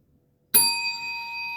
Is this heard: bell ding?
yes